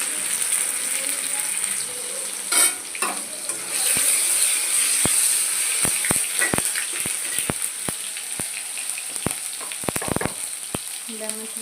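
Green chillies fry in hot oil for a village-style chhatu besara, giving a bright continuous sizzle with sharp scattered clicks and scrapes as a utensil stirs the pan.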